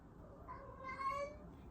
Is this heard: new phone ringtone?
no